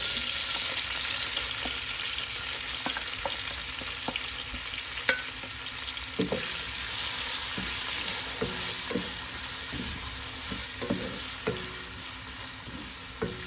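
Steady sizzling of onions and red peppers frying in oil in a pot, with intermittent clinks and scrapes of stirring against the pot.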